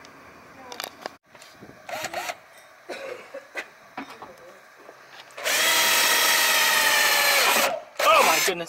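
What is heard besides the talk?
drilling holes in car fender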